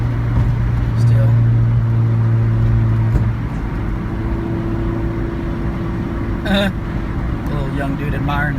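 A 1988 Honda Civic wagon's engine drones steadily in fourth gear, a low continuous hum with road noise, and a voice talks over it in places.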